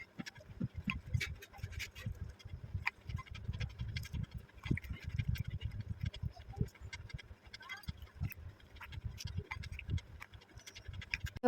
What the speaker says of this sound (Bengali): এদিকে আমি ক্রিমগুলো আলাদা করে নেবো একটা বলে